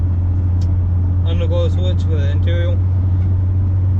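A 1992 Ford F-150 with an inline-six engine, its steady low rumble and road drone filling the cab at constant volume while someone talks over it.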